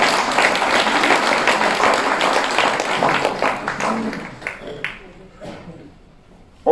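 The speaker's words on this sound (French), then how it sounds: "On peut les applaudir aussi." Applause from a crowd at a village New Year wishes ceremony rolls on densely for several seconds, then thins out and fades to near quiet, with some voices mixed in.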